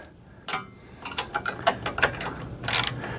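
Bolts being tightened on a Baker luggage rack fitted to a Polaris Slingshot make a close series of quick metallic ratchet clicks in short irregular bursts, getting denser toward the end.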